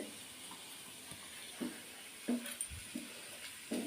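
Potato chunks fry in a pan for aloo dum, a faint continuous sizzle broken by several soft clinks and scrapes of stirring.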